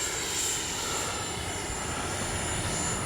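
An FMS 70mm Viper RC jet roars steadily overhead in windy conditions, a continuous airy whine with a high tone held throughout.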